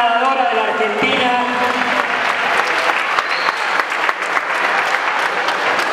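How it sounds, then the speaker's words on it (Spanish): An audience gives a swimmer a warm round of applause at a municipal swimming program event in San Martín, with loud, sustained clapping, while a voice and brief tones are heard at the very start. "Un fuerte aplauso para Virginia"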